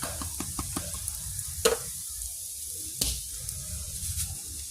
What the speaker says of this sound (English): I'm going to go ahead and add my veggies to the rice, and along with some salt and pepper.